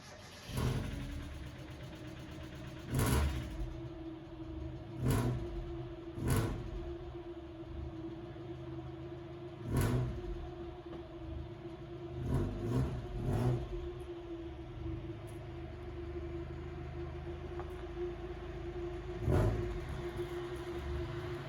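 A Mazda Miata engine with its exhaust fallen off runs at a rough, rumbling idle, punctuated by a dozen loud, irregular bangs and surges.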